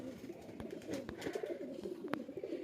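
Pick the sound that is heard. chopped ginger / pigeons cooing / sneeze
pigeons cooing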